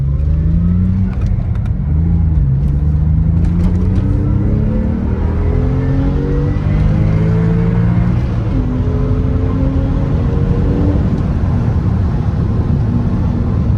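A Porsche engine accelerates hard on a public road, loud and close, its rising harmonic tone climbing through several gear pulls with a steady rumbling roar and no talking.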